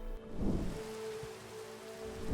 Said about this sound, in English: After installing this mod, the rain will no longer be suffocating, and the snow too.